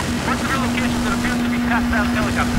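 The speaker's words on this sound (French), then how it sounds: "Une petite hélico." Steady, loud helicopter rotor and engine drone from the video game Battlefield 4, droning without a break throughout, with game voices mixed in over it.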